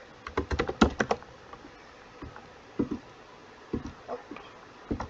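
Someone types on a computer keyboard nearby, first in a quick burst of clustered keystrokes, then in a few sparse, separate taps. No one is speaking.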